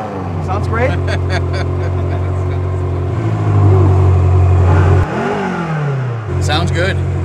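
A new BMW M5 revs its engine up and down, the deep exhaust note rising and falling loudly and close by, with people talking over it throughout.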